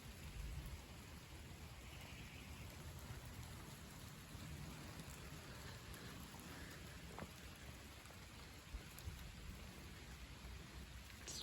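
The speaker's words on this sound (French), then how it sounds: "Et ça pleut encore." A light evening rain shower on 12 September 2024, falling steadily outdoors as a continuous, even hiss of drops with a few sharper patters, holding at a moderate level throughout with no voices.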